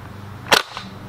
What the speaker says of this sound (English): let's take 3 shots and see where they go